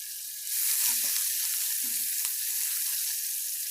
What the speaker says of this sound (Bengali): এবার পেঁয়াজগুলোকে ভালো মতন ভেজে নিতে হবে